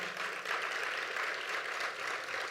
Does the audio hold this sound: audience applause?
yes